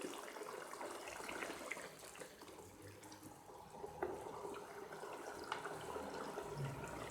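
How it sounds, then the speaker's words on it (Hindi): Water pours steadily into a cooking pot of chicken stock for Kabuli pulao, a faint, continuous splashing gush lasting several seconds without speech. "इसके अंदर मैं 3 कप पानी ऐड कर रही हूँ।"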